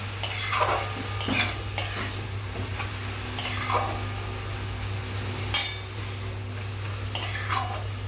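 A spoon stirs a bottle gourd and poppy seed curry in a pan, sharp scraping strokes every second or so over a low sizzle and steady background hum, with no one speaking.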